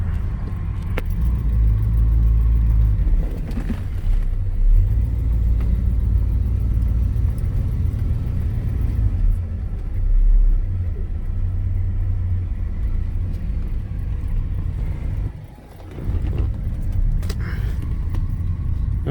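A 1969 Pontiac Grand Prix Model J backs up, its engine producing a steady low rumble and idle throughout, close and loud, with a brief dip in sound near the end.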